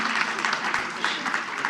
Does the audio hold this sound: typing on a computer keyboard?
no